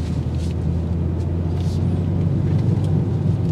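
A 2024 BMW M2 manual coupe cruising on the road, heard as a steady low engine and tire rumble from inside the cabin, constant and moderately loud with no speech.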